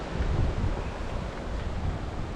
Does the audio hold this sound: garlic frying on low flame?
no